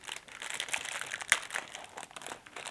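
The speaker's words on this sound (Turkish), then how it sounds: "Öncelikle poşetlerimizi açarak bir şöyle başlayalım." Plastic bags of LEGO Technic 42133 Telehandler parts crinkle and rustle as they are opened, a quiet, steady stream of close crackles with one sharper snap.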